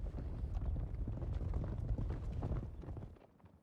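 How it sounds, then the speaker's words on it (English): Many horses' hooves clattering and thudding together in a continuous loud rumble, as a group passes close by, fading slightly toward the end. "Lots of horses."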